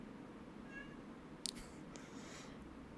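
A cat gives a faint meow or two in a quiet room, distant and soft against a low steady background hum.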